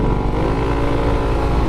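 A motorcycle engine roars loud and close while riding, a dense steady drone with no speech.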